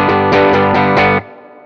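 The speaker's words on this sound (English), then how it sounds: "It's just a G bar chord for the 1st bar." Electric guitar G bar chord played through heavy distortion in a punk style, struck five times in a quick rhythm and then cut off, leaving a short fading ring.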